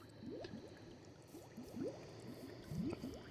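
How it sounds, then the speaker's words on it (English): Bubbling liquid in the game Minecraft, played with Lycanite's Mobs mod, a quiet series of small rising gurgles and pops repeating unevenly over a low background hum. "That bubbling sound suggests there's another"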